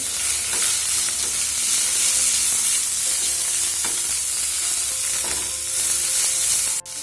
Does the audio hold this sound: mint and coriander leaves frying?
yes